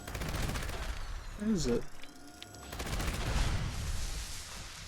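A Gatling laser fires in Fallout 76 in rapid bursts of energy shots, a stuttering volley early on and a second sustained stream later, with a voice speaking briefly between them.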